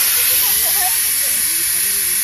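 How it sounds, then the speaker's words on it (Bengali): A pressure cooker cooking rice outdoors lets off its whistle: a steady, loud, high-pitched steam hiss running throughout, with faint voices underneath. "কয় সিটি পড়ছে ভাতে?"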